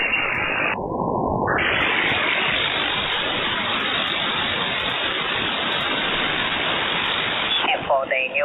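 A strong HF radio signal received on an RTL-SDR software upconverter comes through as a dense, steady hiss of band-limited static with a brief dip in bandwidth near the start, ending with faint distorted speech.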